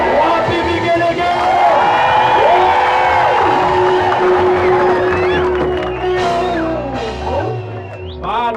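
A church congregation raises loud cheering and high trilling ululation that swells and then tapers off, while a preacher's voice carries over the crowd in the foreground.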